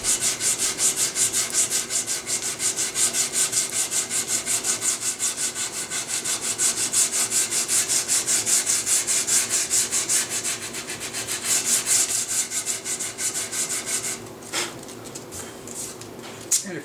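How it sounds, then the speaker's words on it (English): Sandpaper rubbing back and forth over a wooden surface in a gunsmithing workshop, a steady rapid scratchy rasp sustained close up for a long stretch before it breaks off into a few separate scrapes. "make sure your paper is not hanging over the edge like this while you're sanding"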